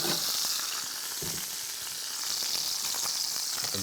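Pork cutlets fry in a cast iron pan on a wood-fired pot belly stove, giving a steady, close, loud sizzle with crackling pops throughout and no talking.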